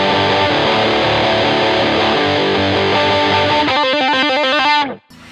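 Overdriven electric guitar on a distortion patch plays thick sustained chords, then switches to choppy rhythmic stabs before cutting out abruptly, loud and alone.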